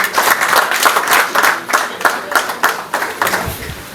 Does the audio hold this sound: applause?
yes